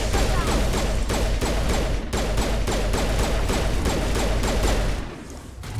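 Mass Effect combat against pirates, a dense, loud stretch of rifle fire with sharp shots piling into a continuous barrage that stops abruptly near the end.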